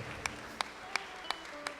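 Five evenly spaced, crisp hand claps from a church congregation during a worship service, a steady rhythmic beat that is fairly faint with no talking over it.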